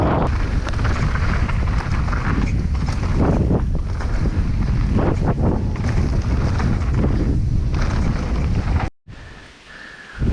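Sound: wind blowing

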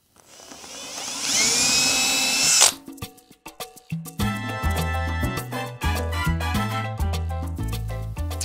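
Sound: 3/32 inch drill making pilot holes

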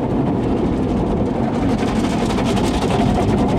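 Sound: car wash machinery running

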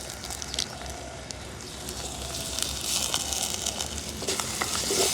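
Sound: stirring onions, green chilli and curry leaves frying in pan

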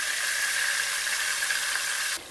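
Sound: sautéing spice paste and chili in hot oil

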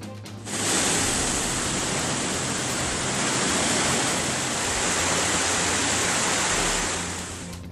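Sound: flooding Kumbakkarai waterfall, rushing water

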